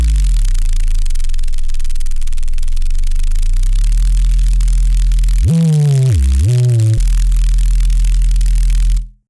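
A buzzy synth tone runs through noise-layered asymmetrical waveshaping distortion, with hissing static on top and a low droning pitch that steps and bends, jumps higher briefly near the end, then fades out.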